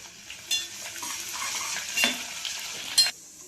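Tempering sizzles in hot oil, frying until red, with a bright crackling hiss, and a spoon clinks and scrapes the pan a few times while stirring.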